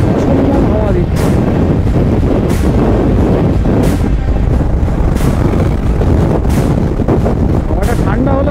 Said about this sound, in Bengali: সাংঘাতিক জোরে হাওয়া দিচ্ছে